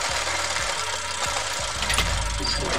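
A motorcycle goes by outside with a loud, rough engine roar that fills the short clip. A few low knocking thumps sit under the steady noise.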